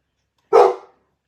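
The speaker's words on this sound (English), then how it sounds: "And she's barking at the ice maker." One sharp, close bark from a dog reacting to a kitchen ice maker, loud and brief against silence.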